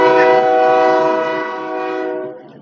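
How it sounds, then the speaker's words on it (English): A passing train sounds a loud, sustained horn blast close by, holding steady and then fading out near the end, with no talking over it. "there's a train going by."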